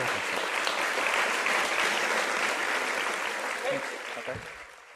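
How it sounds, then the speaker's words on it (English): Sustained applause from an audience at a literary festival conversation, dense and steady clapping filling the room before tapering off near the end. "Just keep clapping."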